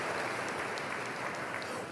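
A church congregation applauds during a Portuguese-language sermon, a steady wash of many hands clapping at a distance with no voice over it.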